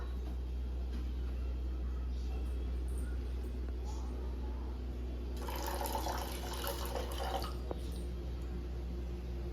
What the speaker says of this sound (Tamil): Next 1/2 cup water ஊத்திக்கலாம்.